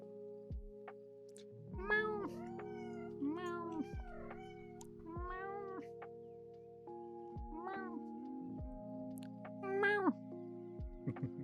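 A person imitates a cat, giving a series of drawn-out, rising and falling meows with short pauses between them, close and fairly quiet, with a low steady hum underneath.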